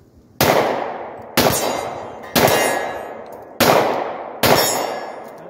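Five loud handgun shots fired one-handed with the left hand, each ringing a steel target with a sharp metallic clang, spaced about a second apart, each ring decaying before the next.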